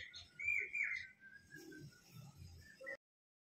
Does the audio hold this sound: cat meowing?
no